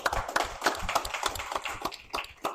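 An audience claps at a talk on seaweed in novel food products, a fairly faint, uneven patter of hands going on for a couple of seconds.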